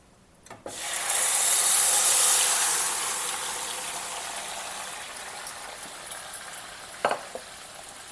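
Liquid is poured into a cooking pot while making palakura, a loud rushing hiss that swells quickly, then slowly fades into a softer sizzle, with a couple of sharp clinks near the end.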